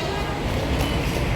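Train noise at Shalimar railway station, near the Shalimar–Puri Express 18039 standing at platform 2: a steady, dense rumble of rail and station ambience running evenly through the short clip.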